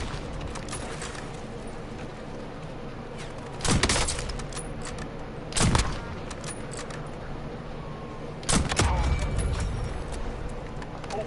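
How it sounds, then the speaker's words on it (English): In a Warzone zombies video game, three sharp gunshot bursts ring out against a quiet background hum, spaced a few seconds apart, with talking heard across the stretch. "Incoming fire."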